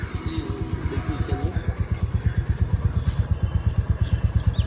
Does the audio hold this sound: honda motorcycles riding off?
yes